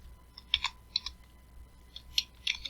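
Fingers tap on a computer keyboard in short, scattered bursts of crisp clicks with brief pauses between them. The typing is close and fairly quiet, and nobody speaks.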